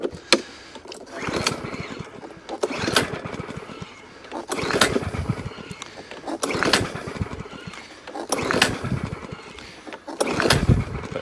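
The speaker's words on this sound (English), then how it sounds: "Little push mower." A small push lawn mower engine is cranked repeatedly and tries to start. Loud bursts of sputtering return about every two seconds, with quieter gaps between them.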